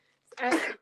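A single short sneeze, close and fairly loud, bursting out after a brief intake of breath during a live sale of fabric, trims and cross-stitch patterns.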